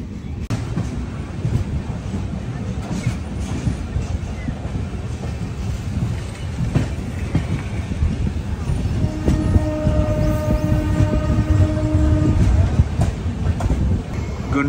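A Jan Shatabdi Express train from Vijayawada to Chennai running near Guntur, a loud steady rumble of wheels and carriages with rhythmic rail clacks and wind buffeting, plus a sustained horn-like tone in the latter half.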